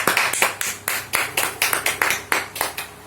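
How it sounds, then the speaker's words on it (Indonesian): Classroom applause for a student group during a micro-teaching lesson: a small group claps in distinct, fairly loud bursts with a loose rhythm, about a dozen sharp rounds over three seconds, heard close by. "tepuk tangan untuk kelompok 4"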